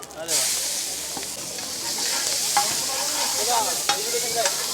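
Mixed vegetable tawa pulao with peas, beans, capsicum, onion, tomato and carrot is stir-fried in oil, giving a loud steady sizzle with repeated scraping stirs of a spatula on the tawa and a brief voice.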